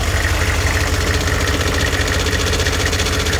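6.5 turbo diesel truck engine idling with an exhaust leak, a loud, steady, rapid ticking chug with an even rhythm throughout.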